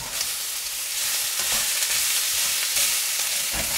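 Potato masala is stirred in a frying pan over a steady, bright sizzle, with soft scraping strokes of the spoon underneath and no talking.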